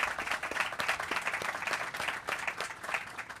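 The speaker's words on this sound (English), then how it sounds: "Please give them a round of applause and thank them for making today possible" An audience applauds event organizers at a Detroit gathering, a steady, fairly faint wash of many hands clapping without voices.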